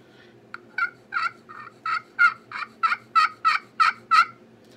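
A striker drawn across a copper-soundboard turkey pot call yelps out a loud, close series of about a dozen evenly spaced raspy clucks and yelps, building slightly in strength.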